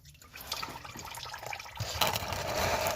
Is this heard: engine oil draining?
yes